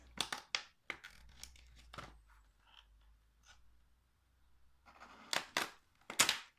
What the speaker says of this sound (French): Mon cutter, parce qu'il y a un scotch